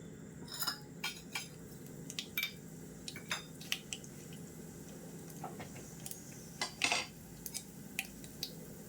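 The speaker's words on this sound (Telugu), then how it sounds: "ఆవాలు చిట్టుపట్లాడుతున్నాయి" Mustard seeds popping and spluttering in hot oil in a pan while cooking thotakura fry, a series of faint, scattered sharp crackles and ticks over a low steady background hiss.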